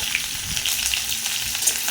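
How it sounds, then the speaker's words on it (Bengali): Moringa drumsticks hiss and crackle as they fry in hot oil in a pan with potatoes, a continuous close sizzle lasting a couple of seconds with no voices. "ডাঁটাগুলো একটু ভেজে নেবো।"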